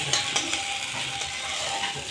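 Bathua greens with flat beans and coriander leaves are stirred and fried in a pan, giving a soft steady sizzle with light scraping of the spatula throughout.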